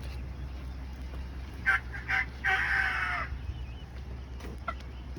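A rooster crows once in the distance, a short broken call of several bursts ending in a drawn-out note, heard faintly over steady outdoor background noise.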